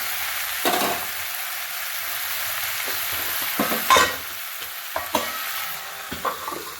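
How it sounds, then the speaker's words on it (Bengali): Pork stirred and sautéed in oil in a pan, with a low steady sizzle and intermittent scraping stirs of a utensil against the pan, close up and with no voices. "ভালো করে একটু কষাবো"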